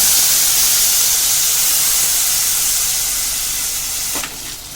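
A steady, loud hiss of cashew paste sizzling in hot ghee, constant throughout with no talking, shifting slightly near the end.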